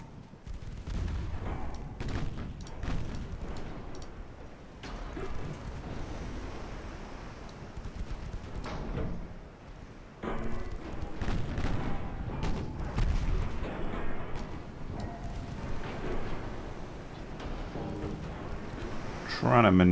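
Naval gunfire from the warship Congreve in a dreadnought battle game, a couple of heavy booming shots rising over a steady wind-and-sea rumble, with someone talking throughout.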